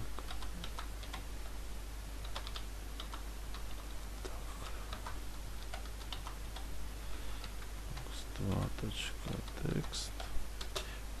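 Computer keyboard keys tap in quick irregular bursts, quiet and close, with someone speaking softly at times.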